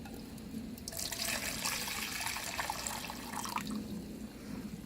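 Water pouring from a Sun Kettle solar cooker, a steady liquid splash and trickle for several seconds, close and moderately loud, with no talking.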